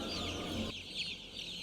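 Laying hens cluck in a closed poultry farm building housing thousands of birds, a dense, fairly close chorus of overlapping clucks and calls with no speech.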